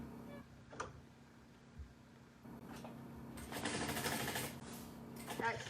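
A home sewing machine back stitches along a seam on a bucket bag with a drawstring, its mechanical whirring and ticking running in short bursts that build and grow louder toward the end, with no speech over it.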